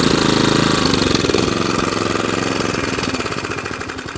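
A Kawasaki engine on a Qualcast Suffolk Punch 14SK cylinder mower runs loud and close but fails to rev properly, giving a rough, rapid mechanical chatter that slowly fades slightly over the few seconds, without speech.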